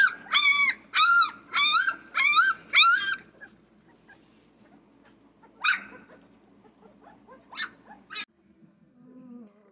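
Central Asian shepherd puppies at their first feeding give a run of five loud, rhythmic yelping whimpers close by, then fall quiet before a few sharper isolated yips and a brief soft whine.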